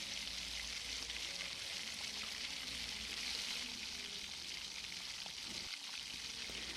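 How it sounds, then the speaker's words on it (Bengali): Carp pieces frying in oil in a pan, giving a dense, even hiss of sizzling that holds steady throughout, close up and with no talking. "সুন্দর করে ভেজে নিতে হবে মাছগুলো"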